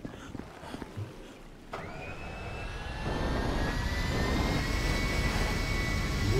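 Airplane jet engine in a modded GTA V, heard as a steady whine that starts abruptly partway through and swells louder, with a rising high-pitched tone over broad roaring noise.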